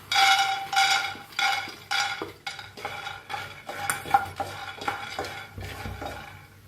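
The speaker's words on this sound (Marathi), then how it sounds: "आता आपण शेंगदाणे भाजून घेऊया।" Peanuts are dry roasted in a pan, stirred with repeated scraping, rattling sweeps that come in rough, regular strokes, loud and close with no talk.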